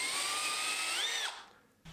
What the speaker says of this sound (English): drill from both sides just to make sure it's positioned accurately. First using a small pilot bit and then with a 16mm auger bit